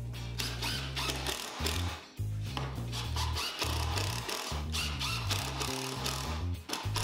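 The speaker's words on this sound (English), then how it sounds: "Now we're going to screw this in." A power driver screws together a tool rack with a series of close, whirring bursts that stop and start, the motor whine shifting pitch as each screw bites into the wood.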